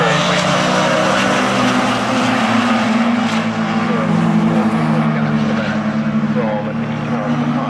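Mini Miglia race cars howl around the Snetterton circuit during a BRSCC race, a continuous dense engine roar from several cars passing, with a commentator talking over it throughout.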